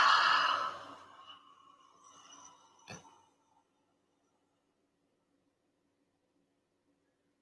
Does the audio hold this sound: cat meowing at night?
no